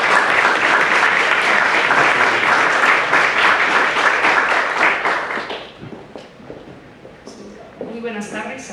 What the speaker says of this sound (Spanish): Démosle por favor la más cordial bienvenida y un aplauso.